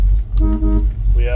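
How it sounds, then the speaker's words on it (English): A 1964 Ford Galaxie 500 with a 390 engine sounds its horn in two short, steady honks, close and loud. "We have horn."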